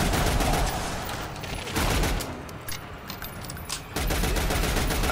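Gunfire in The Darkness II shooter game, loud dense bursts of automatic fire that pause briefly mid-clip and then resume, crowded together in rapid rattling volleys.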